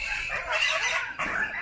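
Chickens cluck in a pen at an ecological farm in Sonora, a close, continuous chatter of several hens with a brief break partway through, no one talking over it.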